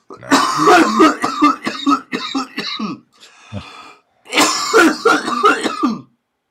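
Harsh, repeated coughing in two close, loud fits with a short quiet pause between them.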